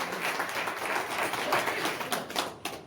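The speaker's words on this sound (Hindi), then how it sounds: "जोरदार तालियां" A short burst of clapping from an audience applauding a speaker at a direct selling seminar, moderately loud, with a few sharp individual claps standing out as it thins toward the end.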